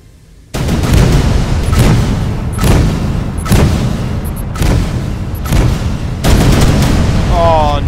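Heavy gunfire in the 2013 video game Rise of the Triad, as a loud, continuous barrage of booming shots rolls on in rough pulses for several seconds.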